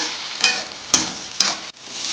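Chana dal fries in a pan, a steady hiss of sizzling oil with three sharp clicks or stirring knocks spaced through the short stretch, close and fairly loud.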